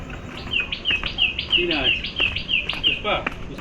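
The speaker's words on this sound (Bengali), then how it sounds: "চারদিকে পাখিদের ডাক শুনতে শুনতে" Birds call repeatedly around a stone stairway at a pilgrimage site, a run of bright, rhythmic chirps about every third of a second, fairly close and clear over a faint outdoor background.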